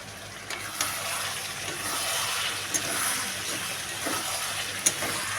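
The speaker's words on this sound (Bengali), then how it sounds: "তো এখানে আমার চিকেনটা ফুটে উঠেছে।" Chicken curry with potatoes bubbling in a pot on a home stove, a steady close simmering hiss with a few soft pops and clinks breaking through.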